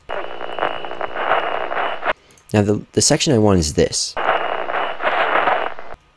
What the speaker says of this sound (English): We're going to skip our music and go straight to this, which is our static.